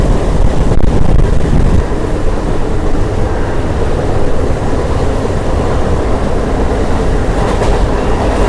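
A passenger train on the Ranaghat to Amghata line via Santipur and Krishnanagar in West Bengal, recorded from on board at high speed as a loud, continuous rumble and roar of wheels and carriages, with no talk.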